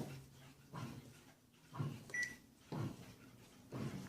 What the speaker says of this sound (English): what you're hearing is the bread maker making small and quick whoa,